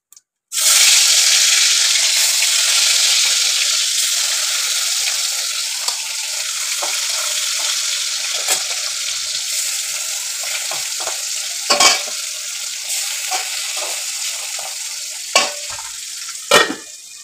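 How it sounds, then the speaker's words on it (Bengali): Pabda fish fry in hot oil in a pan: a loud, continuous close-up sizzle runs throughout, with occasional sharp pops and clinks of a utensil. "এইভাবেই প্রত্যেকটা মাছ ভাজতে হবে"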